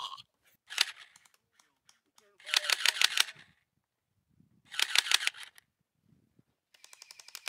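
Gel blaster fire during an outdoor gel blaster battle in Big Bear, California: two sharp bursts of rapid shots, each lasting about a second, with faint scattered voices and clicks between them.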